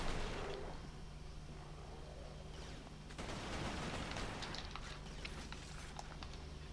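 Gunfire in the first-person shooter Resistance: Fall of Man: a continuous noisy rattle of shots runs throughout, with a sharper burst of cracks near the middle. It is moderately loud, with no talking.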